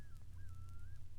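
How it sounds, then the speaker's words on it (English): A common loon gives its yodel call: one drawn-out, wavering tonal wail that holds fairly level. It sounds distant and fairly faint over a steady low rumble. "The yodel."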